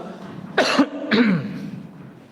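A man gives two short, sharp coughs in quick succession during a religious study lesson indoors, close and fairly loud, then falls quiet.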